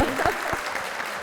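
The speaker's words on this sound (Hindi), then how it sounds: "तालियां हो जाए, बहुत सारी तालियां।" A studio audience on a comedy talk show breaks into a brief burst of clapping, a quick dense patter that lasts only about a second, with a voice overlapping it.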